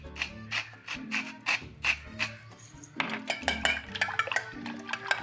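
Four eggs with salt and black pepper are whisked. A quiet, quick run of metallic clinks ticks in a steady rhythm with no break.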